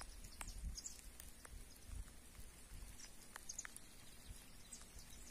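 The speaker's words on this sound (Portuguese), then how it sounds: "É a chuva caindo na lagoa," Soft, steady patter of rain falling on a lagoon, with a few faint bird calls in the distance and no talking.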